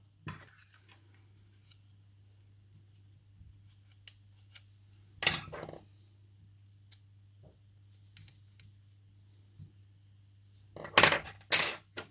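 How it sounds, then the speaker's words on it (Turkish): Small screws removed from the bottom of an iPhone 6s Plus with a tiny screwdriver: a few sharp metallic clicks and scrapes close by, spaced apart over a low steady hum, with a busier clatter near the end. "Öncelikle alttaki iki vidasını açıyoruz."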